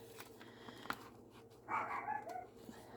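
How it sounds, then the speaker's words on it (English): Dog barking indoors, a few faint, distant yips and barks that grow into a short, brighter burst of barking near the end, quiet overall. "there goes the dog"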